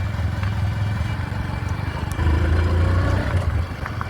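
A motorbike being ridden, its engine running with a steady, close, rattling low drone. It revs up slightly partway through and then settles back, with no talking over it.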